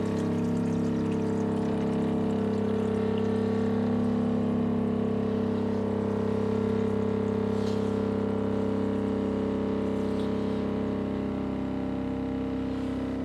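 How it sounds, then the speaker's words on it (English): Tap water flowing steadily into caravan water filters, a constant rushing hum with a steady low tonal drone running underneath throughout, with no pauses and no voices. "So now the next thing is to turn this tap on. Make sure it's off there. So it's now filling these filters."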